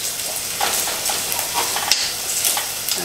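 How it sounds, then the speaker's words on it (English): Onions fry in a pan with a steady, close sizzle, broken by soft scraping strokes as they are stirred; no one speaks. "after you've cooked the onions for about 3 to 4 minutes, and you continue cooking"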